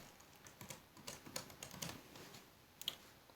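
Quiet typing on a computer keyboard, a loose run of soft key clicks with a couple of sharper taps near the end, close and faint with no talk.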